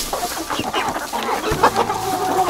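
Several hens cluck and murmur close by in a busy, continuous chatter with some outdoor background noise in a garden.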